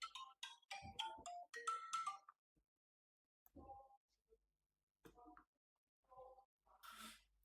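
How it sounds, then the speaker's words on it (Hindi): An incoming call sets off a phone ringtone: a loud, bright melodic sequence at the start, then quieter tonal bursts return with pauses between them. No one speaks. "बीच में कॉल आ गया, I forgot to put my phone on silent mode"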